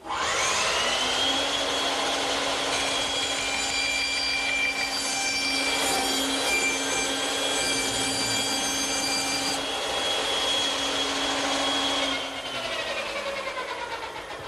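A saw cutting a plywood blank on a radius pin jig: a loud, steady whining drone with a sustained cutting tone that winds down near the end, close and alone.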